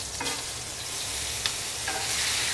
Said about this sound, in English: that's the sizzle you want